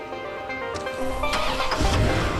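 A car engine cranks and catches in Watch Dogs, then settles into a rising idle with a swelling revving roar in the second half, fairly close and clear.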